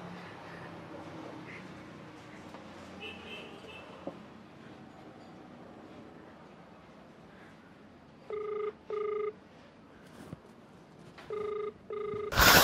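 A phone rings in two pairs of electronic trills separated by a pause, loud and close against a quiet room background.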